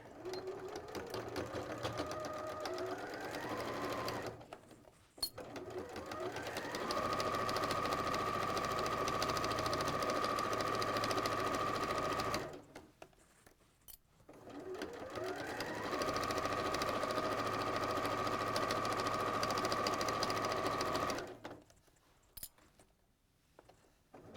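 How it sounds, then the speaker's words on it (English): A domestic sewing machine top stitches a fabric skirt in two long steady runs, each ramping up to a fast even whir, separated by short pauses with small clicks and handling noises, close by and fairly quiet. "So I've just top stitched down to close that all up."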